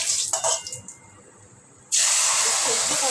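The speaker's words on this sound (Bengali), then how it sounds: "সেদ্ধ করা লাউটা দিয়ে দিলাম।" Boiled bottle gourd hits a hot pan of oil tempered with five-spice and a dried red chilli, giving a sudden loud, steady sizzling hiss that starts midway after a quieter stretch and carries on to the end.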